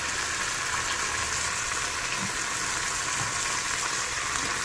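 Taro (colocasia) pieces fry in hot oil over high heat, giving a steady, even, close-up sizzle that hisses without pause and carries no voices.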